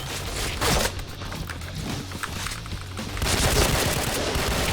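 Machine gun fire in the shooter game Point Blank, with dense rapid bursts of shots that rise and fall in intensity, loud and continuous throughout the short stretch with no speech.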